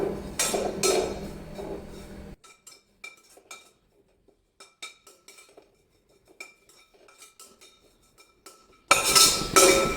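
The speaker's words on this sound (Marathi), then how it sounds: "तर अगदी व्यवस्थित इथं मी कस्तुरी मेथी भाजून घेतली" Dried fenugreek leaves, kasuri methi, being dry-roasted in a pan with a spoon: scattered light clinks and scrapes of metal on the pan, close and fairly quiet, between louder stretches of background noise at the start and end.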